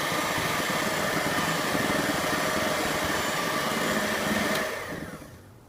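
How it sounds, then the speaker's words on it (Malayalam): An electric mixer beats butter cake batter, a steady loud whirring drone that runs unbroken for several seconds, then winds down and fades as the motor stops. "നമുക്കിതിനെ ഒന്നുകൂടെ ബീറ്റ് ചെയ്തെടുക്കാം"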